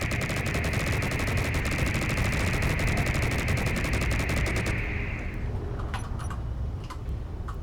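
Giant gatling gun on a frigate in a naval video game firing a dense, rapid, continuous burst for about five seconds, loud and close, then cutting off into a rumbling tail with a few scattered impacts.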